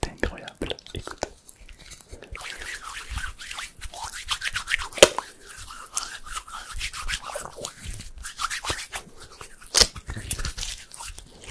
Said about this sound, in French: le bruit de l'eau sur les mains est incroyable